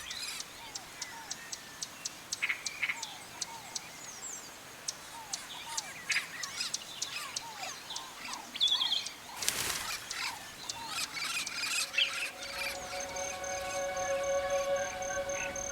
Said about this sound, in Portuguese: Como o papagaio verdadeiro, à procura de frutos maduros.